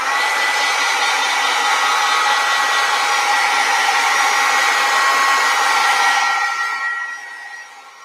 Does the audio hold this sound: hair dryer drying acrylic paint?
yes